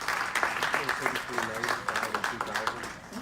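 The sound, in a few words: city council audience applause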